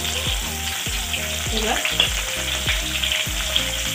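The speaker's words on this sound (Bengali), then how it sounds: "এবার আমি পেঁয়াজ দিয়ে দেব" Chopped onions sizzle in hot oil for a chicken tehari, close and steady, with rhythmic stirring knocks recurring about twice a second and a single brief spoken word.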